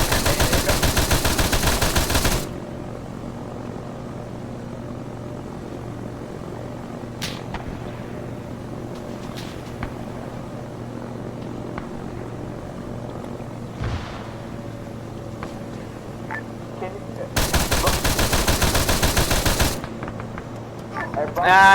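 Sustained bursts of machine gun fire in the military game Arma 3, loud and dense at the start and again near the end, separated by a quieter stretch of engine drone and scattered shots.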